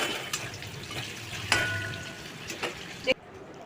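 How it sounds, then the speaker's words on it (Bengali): Potatoes fry with salt and turmeric in a pan, a steady soft sizzle running throughout with a few brief clinks and splashy accents, close and fairly quiet. "এরপর আলুগুলোকে নুন হলুদ দিয়ে ভেজে নেব।"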